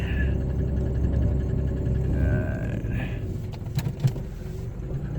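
A 2002 Chevy Malibu with locked-up brake drums rolls back and forth with the brakes partly applied, giving a steady low engine and road rumble, a short higher whine and a few sharp clicks near the end.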